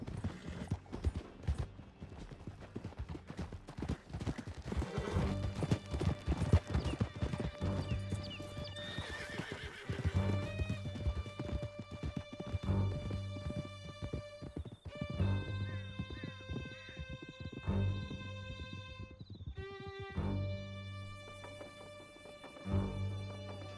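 Horses galloping under riders in Red Dead Redemption 2, a rapid rhythmic clatter of hooves with neighs and whinnies breaking through, loud and close, mixed with game music and occasional voices.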